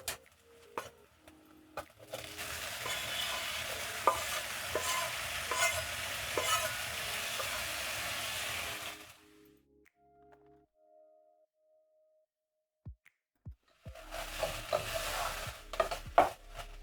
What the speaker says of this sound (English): Stir in my tomatoes